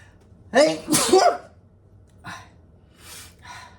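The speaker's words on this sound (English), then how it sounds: "Hold on, I have to sneeze" A single sneeze bursts out near and loud, a sharp intake followed by the explosive release, then a couple of quieter breathy sniffs and exhales trail off afterward.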